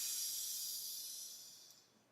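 Air hissing steadily from a Vitamix vacuum blender container as its vacuum is released, a soft, bright rush that gradually fades over a couple of seconds.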